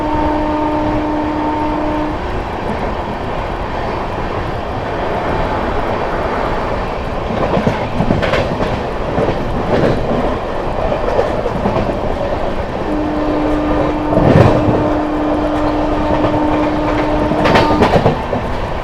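Trains thunder past on Indian Railways track, among them the Delhi–Alipurduar Sikkim Mahananda Express, with a steady loud roar of wheels and carriages, a brief horn near the start and another long horn blast near the end.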